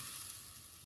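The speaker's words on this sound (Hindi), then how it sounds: "हमारा पानी उबलने लग गया।" A pot of water coming to the boil while cooking a traditional Mahashivratri fasting rice dish, giving a brief, faint steady hiss with no voices.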